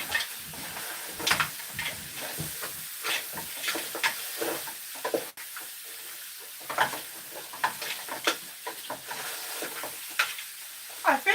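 Goat and chicken meat browning in a pot for an African stew, sizzling and crackling steadily with occasional sharp pops and stirring scrapes, close up and with no voices.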